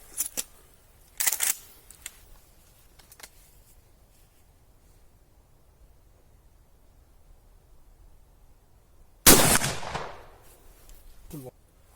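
A Husan pump-action shotgun firing 50-gram shells outdoors: a few sharp reports early on, then one loud, close blast near the end with a trailing echo, separated by quiet stretches.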